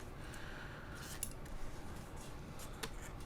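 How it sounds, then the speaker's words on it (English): Scissors snip along an adhesive strip from stencil storage, a few faint crisp cuts over quiet background, close but soft. "I just take my scissors and I just cut all the way up the strip"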